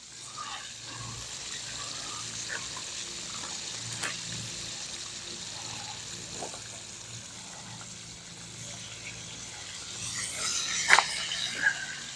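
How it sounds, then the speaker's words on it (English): Whole catfish fry in hot grease with a steady, moderately quiet sizzling hiss, broken by a few sharper pops and spatters near the end. "when you have the whole catfish in, you want to cook each side at least 3 to 5 minutes before you flip them"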